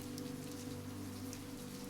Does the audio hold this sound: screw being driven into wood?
no